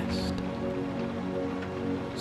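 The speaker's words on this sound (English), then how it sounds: "The rain will continue to watch over your room, holding the chaotic world infinitely far away." Steady rain falling on a surface, a dense continuous patter with a faint low hum beneath, even and unbroken throughout.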